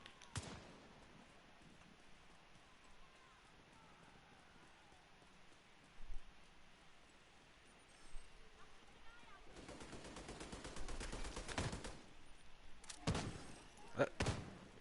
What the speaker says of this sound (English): Was that turret shooting itself?